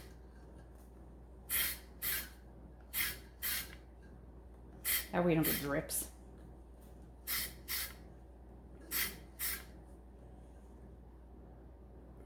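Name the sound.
light spraying of white spray paint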